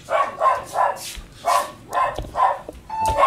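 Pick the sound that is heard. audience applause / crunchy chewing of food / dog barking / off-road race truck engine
dog barking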